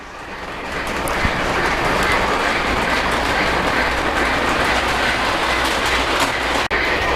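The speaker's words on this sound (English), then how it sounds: "I take that train now through the tunnel" A Polar Express toy train with a new flatcar and bell runs along its track toward a tunnel, giving a steady, close clickety-clack rumble that holds evenly throughout, with no voices.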